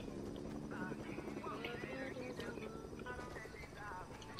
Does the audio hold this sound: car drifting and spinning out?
no